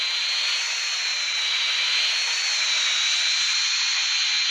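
Fighter jet in GTA San Andreas, a steady, loud engine roar holding evenly throughout with no gaps and no voices over it.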